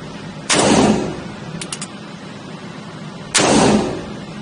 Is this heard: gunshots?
yes